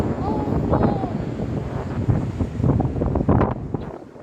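Gusty wind in Abu Dhabi buffets the microphone in rough, rumbling bursts, with a voice faintly under the noise.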